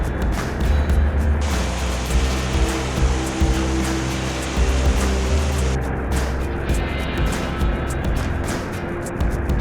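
Water of the La Cebada river sliding down a large rock face into a waterfall at La Periquera near Villa de Leyva, a steady, loud broadband rush and roar with no break throughout.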